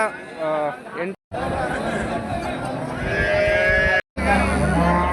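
HF cows moo amid a busy cattle market crowd in Honnali, Davangere, people chattering and calling nearby, a steady hubbub with a few short breaks.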